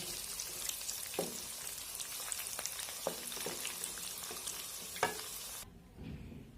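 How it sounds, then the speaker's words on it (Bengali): Whole spices, cinnamon, cardamom and bay leaves, sizzle in hot oil while a utensil scrapes and taps the pan several times, then the sound cuts away to near quiet. "একই তেলে এখন আমি 2টা দারচিনি, 2টা এলাচ এবং 2টা তেজপাতা দিয়ে একটু নেড়ে চেড়ে নেব।"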